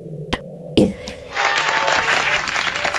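Crowd of anime characters in One Piece applauding Zoro after he climbs a high plateau, a burst of steady clapping and cheering that starts after a couple of sharp hits and continues densely to the end.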